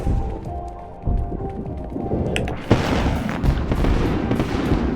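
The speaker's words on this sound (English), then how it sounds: "Oh my god, it's like a fireworks factory in here." A dense burst of firework explosions sounds in the Spider-Man 3 video game, with loud booms and crackling clatter that swell and keep rumbling and popping after a sharp bang.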